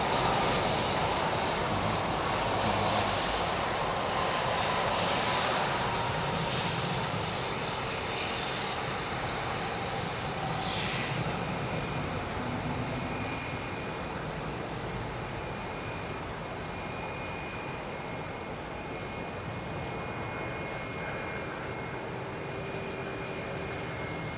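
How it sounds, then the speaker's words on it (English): A jet airliner arriving on runway 27R at London Heathrow, its engines producing a broad, steady roar and hum that fades slightly as it passes, heard alone without talk. "Listen to the engine start humming."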